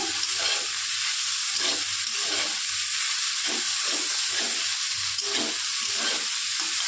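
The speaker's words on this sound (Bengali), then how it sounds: "এবার আমি একটা কাঁচা লঙ্কা আর পোস্ত যে বেঁধে রেখেছিলাম সেটা আমি দিয়ে দেবো" Okra fries in a pan with green chilli and poppy seed paste, a loud, steady sizzle and hiss with soft rhythmic scraping as it is stirred.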